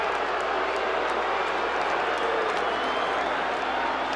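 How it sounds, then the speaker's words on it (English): Football stadium crowd during a Georgia vs. Vanderbilt game: a steady, dense wash of distant cheering and hollering with scattered claps, heard from above the stands and continuous throughout. "you can hear them hooting and hollering underneath us"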